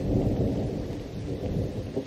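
Heavy rain pours steadily while low thunder rumbles through it, loud and close, with no voices, in a cartoon.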